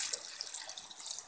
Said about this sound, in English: I'm also going to add water to the mixer jar